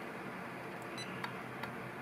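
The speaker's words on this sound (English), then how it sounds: "and the camera takes a photo." A hacked Samsung A503 compact camera, wired for use as a trail camera, takes a photo. A few faint, short electronic clicks and chirps sit over steady background hiss, with no voices.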